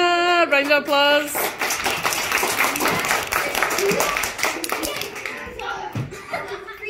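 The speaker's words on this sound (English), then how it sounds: "Round of applause" Audience clapping at a school talent show for Red Nose Day, a burst of hand claps following a short sung or spoken bit, with some light laughter and talk mixed in.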